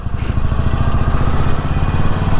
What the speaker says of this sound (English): let me know what you think of the exhaust whistle on the stock Harley Davidson 48 exhaust